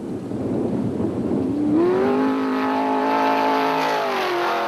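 A 3.5 litre off-road rally car engine revs hard and climbs steadily in pitch, loud and close, holding a strong sustained roar with no talk over it.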